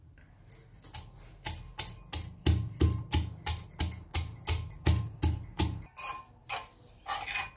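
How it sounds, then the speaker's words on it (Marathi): Green chilli, garlic and cumin pounded coarsely in a stone mortar with a pestle, a fast, steady run of close, loud thuds with a metallic ring, slowing near the end. "आता आपण हिरवी मिरची आणि लसूण, जिरे खलबत्त्यात कुटून घेऊ"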